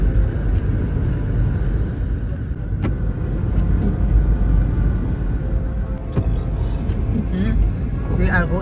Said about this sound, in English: Driving in the snow.